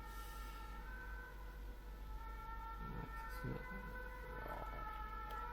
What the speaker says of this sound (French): Et les sirènes, ouais.